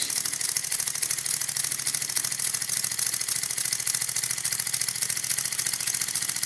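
Small model spool valve steam engines run steadily, giving a fast, even mechanical chuffing and ticking rhythm that stays constant and close for several seconds with no talk.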